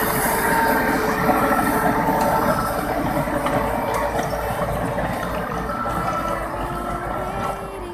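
A Massey Ferguson 385 tractor pulling a rotavator through a field, its engine droning steadily and loud with a constant churning rumble throughout.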